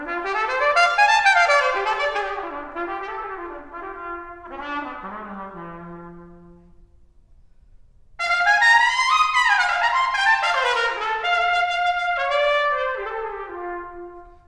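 A trumpet plays bluesy, expressive phrases with bends and falling lines, near and bright, during a masterclass at a trumpet festival; a quiet pause splits the passage into two phrases.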